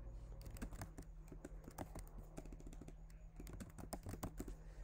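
Rapid keystrokes on a computer keyboard while a Linux command is entered, a steady run of crisp clicks with brief pauses, close and clear over a low constant hum, with no talking.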